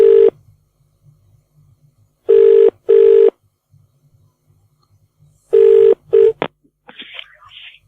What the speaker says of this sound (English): Bonzi, see if I can get him back on the phone.